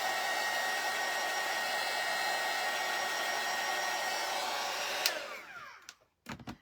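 A hair dryer blows steadily on a vintage frame kit paper craft page, a loud, close, continuous whoosh that switches off after about five seconds, followed by a few brief handling knocks.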